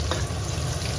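Pork frying in a pan as its fat renders out: a faint, even sizzle lasting about a second, with no talking.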